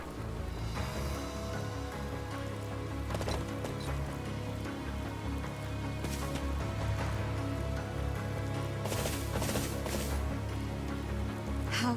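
Steady rainfall in the Fire Emblem: Three Houses game, a continuous broadband hiss of drops on a surface with a low background drone and a few brief louder splashes or clatters.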